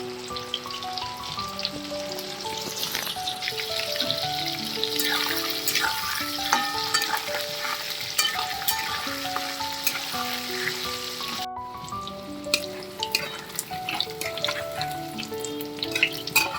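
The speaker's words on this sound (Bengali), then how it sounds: "এবার তেলের মধ্যে একটা একটা করে ছেড়ে দিচ্ছি" Marinated chicken pieces frying in hot oil, a steady broad sizzle running throughout at close range, with music playing over it and a brief dip near the end.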